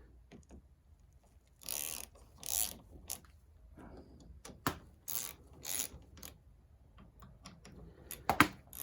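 Bolts on a VW Jetta TDI diesel fuel filter housing are tightened in a star pattern with a torque wrench, giving quiet scattered ratcheting clicks and short mechanical rasps with pauses between them.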